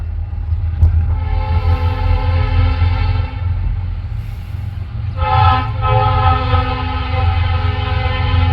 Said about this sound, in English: two locomotives. At least they're going fast.